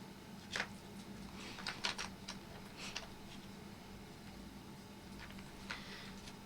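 Mechanical keyboard fitted with fresh GMK keycaps being typed on, faint scattered clacks in short irregular bursts over a quiet steady hum, with no talk.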